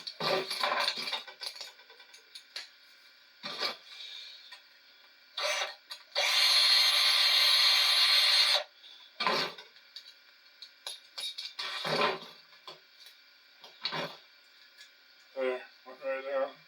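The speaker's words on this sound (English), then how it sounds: "Unless I gotta ream it more." Reaming a copper piece on a 1958 Williams shortstop pinball machine under repair: a loud, steady grinding burst lasting about two seconds, set among scattered clicks, taps and talk.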